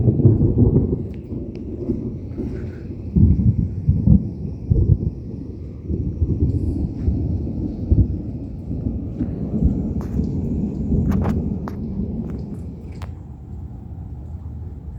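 Deep rumbling thunder from nearby lightning strikes rolls on and off for the whole stretch, with a few sharper cracks nearby and a soft hiss of rain.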